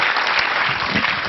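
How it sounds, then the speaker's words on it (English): Audience applause at a hacker conference talk, a dense burst of clapping filling the room, loud and steady for the short stretch with no voices over it. "Thanks for the applause for asshat and Uganda."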